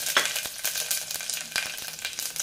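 Cumin seeds, caraway-type shahjeera and curry leaves sizzle in hot oil, a steady broadband crackle with brief spattering bursts, close and moderately loud with no talking.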